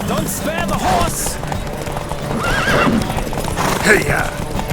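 Horses gallop in a race in The Witcher 3, hooves clattering fast and close while a horse whinnies and riders shout over the pounding.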